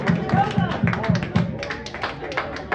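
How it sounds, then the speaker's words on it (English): A lone performer claps for himself on stage, a string of sharp, evenly spaced handclaps heard over a murmuring crowd and a musical backing. "I'm a clap for myself"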